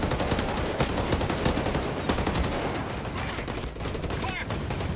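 Sustained bursts of automatic gunfire and heavy shooting fill a combat firefight in the video game Ghost Recon Breakpoint, loud and continuous with dense overlapping shots throughout.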